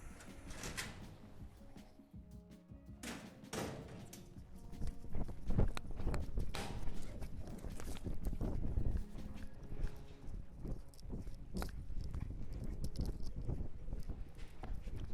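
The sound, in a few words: roping horse walking at the arena back gate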